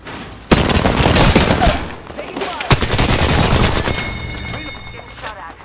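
Automatic gunfire in Apex Legends erupts loud and close, sustained rapid bursts with sharp single shots standing out, tapering toward the end.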